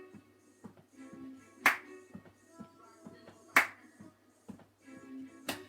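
A single sharp hand clap repeats at a steady pace, roughly every two seconds, amid the soft shuffling steps of a low-intensity body conditioning exercise routine, fairly close and moderately loud.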